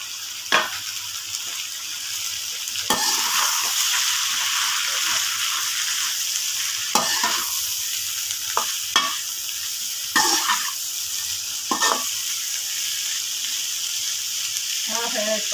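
Onions fry steadily in a pan for bitter gourd curry, a constant sizzle broken by a few sharp clanks and scrapes of a spoon stirring, close and moderately loud.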